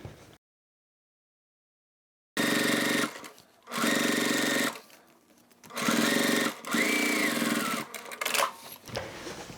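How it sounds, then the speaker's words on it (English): A sewing machine top-stitches the back panel of a crossbody bag in several bursts of rapid, close, steady whirring separated by short pauses, with an opening stretch of silence. "Now we need to top stitch on the back part."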